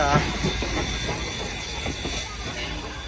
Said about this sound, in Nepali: यो चाहिँ छुकछुकै ट्रेन भइहाल्यो साथीभाइ हो